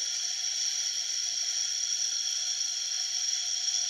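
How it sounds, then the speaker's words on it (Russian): The clockwork-wound fan of an aspiration psychrometer runs with a steady, high-pitched whir that stays even and unbroken, close by and fairly loud. "Вот мы слышим, запустился вентилятор"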